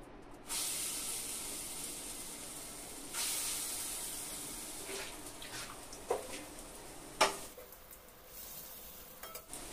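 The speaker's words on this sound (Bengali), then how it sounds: "এবার এই তেলে আমি ডালের বড়াগুলো একটু ভেজে নিব।" Lentil (matar dal) fritters fry in hot oil with a continuous hissing sizzle that flares up as each piece drops in, followed by several scraping stirs and one sharp clatter near the end; no voices.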